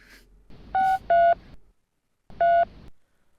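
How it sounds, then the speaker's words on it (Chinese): A telephone being dialed: short dial beeps in two quick bursts, then a pause and one more beep, clear and close with nothing else around. "等我打电话。"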